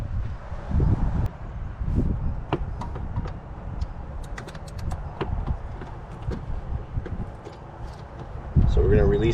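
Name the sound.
wind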